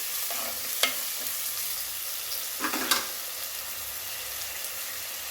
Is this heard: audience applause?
no